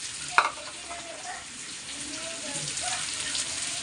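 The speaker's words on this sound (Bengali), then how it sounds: "ভালো করে এবার আলুরে ভাইজা নেব।" Potatoes frying in a pan with turmeric, a steady soft sizzle with a brief clatter near the start, continuing evenly and fairly faint throughout.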